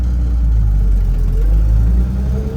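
A 1967 Chevrolet K10 Suburban engine pulls away, a loud, close, low rumble of the V8 building steadily with engine drone filling the cab.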